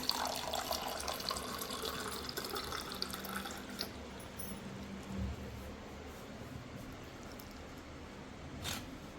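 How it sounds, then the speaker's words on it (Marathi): Water is poured into flour, with turmeric added, to make dough: a close, trickling splash that is strongest at first and then thins to a faint, quieter flow. "आपलं काही आपण पाणी घालतोय थोडंसं"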